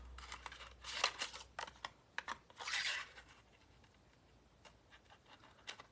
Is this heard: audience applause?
no